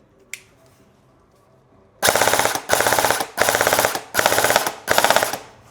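An ENC 319 airsoft gun fires on full auto in five loud, close bursts of rapid shots, each lasting about half a second with short pauses between, after a single earlier click.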